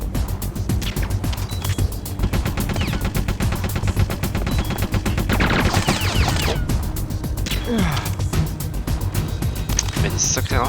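Heavy machine gun bursts in Metal Gear Solid: The Twin Snakes, rapid sustained rattling fire that runs almost continuously for several seconds with crashes and impacts mixed in, while people talk over it.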